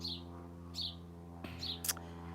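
Several short bird chirps come in brief bursts, fairly faint, over a steady low hum, with one sharper high tweet near the end.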